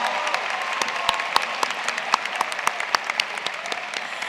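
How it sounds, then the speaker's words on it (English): Steady applause from a seated crowd at a high school commencement ceremony for the class of 2017, a dense patter of clapping with sharper individual claps standing out, continuous for several seconds. "give them a round of applause"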